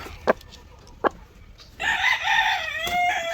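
Two short clucks, then a rooster crows loudly and close by, a long wavering cock-a-doodle-doo on a farm, standing alone against quiet background.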